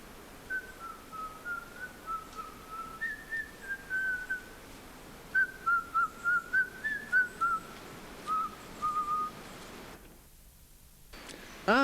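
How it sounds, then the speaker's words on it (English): A person whistling a lilting tune alone, a steady run of short clear phrases with brief pauses, close and fairly loud, ending in a rustle. "You can whistle your tune to me as we go."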